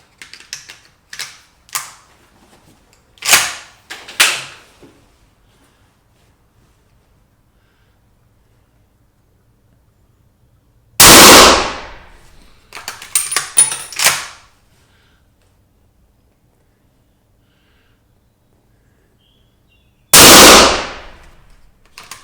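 Three loud rifle shots firing RWS Evo Green lead-free ammunition over a chronograph, each a sharp blast with a short decay, spaced several seconds apart, with faint rustling and handling noises between them.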